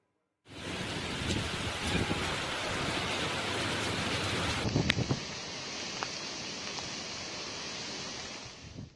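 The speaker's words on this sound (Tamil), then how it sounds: "புயல் கரையை கடந்த நிலையிலும் இந்தியாவின் வடகிழக்கு மாநிலங்களில் தொடர் கனமழை பெய்து வருகிறது." Heavy rain pours steadily on the ground during flooding in the northeastern Indian states of Assam and Manipur after Cyclone Remal, a dense continuous hiss with a sudden shift in tone midway and no voices.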